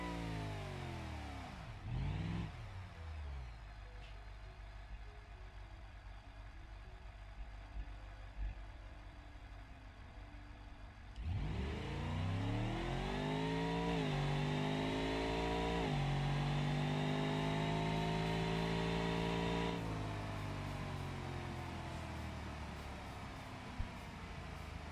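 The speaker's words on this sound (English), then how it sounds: "Get some revs in there, warm up the engine a little bit." A drag race car engine in the video game APM Motorsport Drag Racing idles with a rough, buzzy drone, then revs up hard with rising, wavering pitch and holds a loud, sustained whine.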